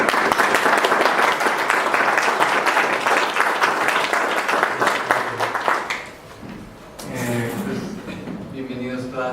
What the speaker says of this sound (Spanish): Pido un aplauso para el doctor García Fernández.